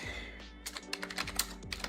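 Fingers type quickly on a computer keyboard, a close, crisp run of uneven clicks and key taps that bunch into bursts, with a soft low hum underneath and no speech.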